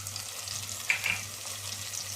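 Mutton curry frying in a pan with ginger garlic paste, clove-cinnamon powder and kasuri methi, a steady close sizzle with faint stirring scrapes and no talk.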